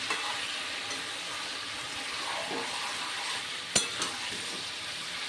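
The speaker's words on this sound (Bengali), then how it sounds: "কষানো প্রায় হয়ে গেছে" Potatoes for aloo dum sauté in a pan, giving a continuous moderate sizzle and frying hiss, with a sharp knock of a spoon against metal near the end and occasional faint stirring scrapes.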